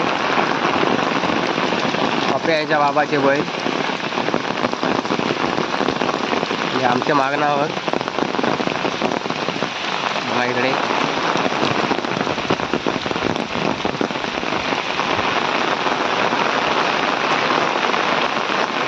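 Steady, loud monsoon rain pours down throughout in rural Konkan, a dense hiss with scattered drops, while someone talks over it now and then.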